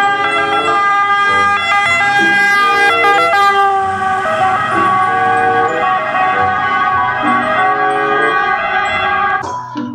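A toy ambulance plays a loud electronic siren with warbling, alternating tones that repeat continuously up close, then cut off abruptly near the end.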